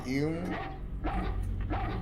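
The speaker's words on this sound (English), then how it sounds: "Oh, there he is, dog. Dog joins the party." A dog barking and yipping in the video game Haunting Ground, a few short barks set low under people talking over the game audio.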